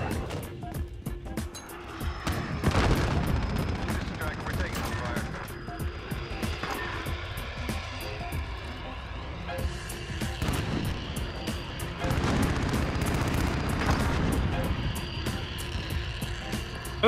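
Heavy, sustained gunfire and explosions from a Modern Warfare video game match rumble on in dense bursts over a continuous background din.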